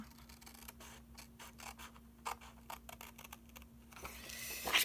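Scissors snip through paper for a handmade notepad in a series of short, crisp cuts, quiet and close, over a faint steady hum and with no talking.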